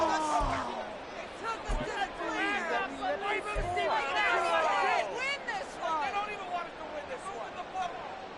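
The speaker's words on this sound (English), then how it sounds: "Listen to this crowd now." Football stadium crowd at an NFL game against the 49ers, waiting on a two-point conversion attempt after a late touchdown: a dense, steady roar of many voices and chatter, loud throughout, with a few sharp thumps near the start.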